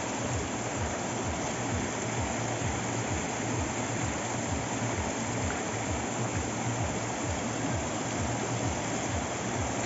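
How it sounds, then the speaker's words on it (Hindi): A mountain waterfall on the Ganji Pahadi trek near Dalhousie, Himachal Pradesh, gives a loud, continuous rushing roar that holds steady throughout, with no one talking. "तो आप यहाँ से वाटरफॉल की नज़ारा ले सकते हो।"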